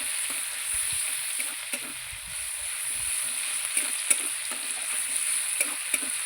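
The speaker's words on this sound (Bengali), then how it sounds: "মশলাটা দিয়ে একটু নেড়ে চেড়ে নেব" Ground onion, ginger-garlic and cumin paste frying in oil and being stirred, with an even sizzling hiss and a series of soft scraping spoon strokes, no voices.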